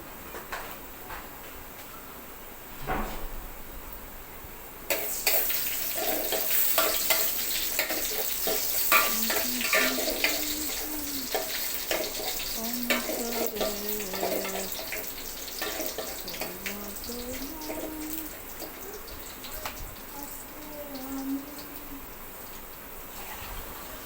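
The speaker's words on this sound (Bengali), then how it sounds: "পেঁয়াজটা ভাজা হচ্ছে" After a few quiet seconds, onions start sizzling loudly in hot oil, with occasional scraping and stirring sounds.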